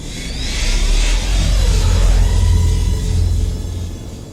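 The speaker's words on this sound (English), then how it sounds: "The new ambition screamed as it lunged forward." The starship New Ambition's engines roar loud and continuous as the ship lunges forward, a heavy low rumble with a rising then falling whine above it, swelling near the middle and easing slightly toward the end.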